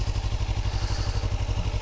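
A motorcycle engine chugs with a rapid, steady low thumping pulse, close and fairly loud, as a rider eases out the clutch and applies throttle.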